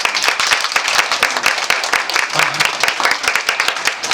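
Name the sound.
congregation clapping loudly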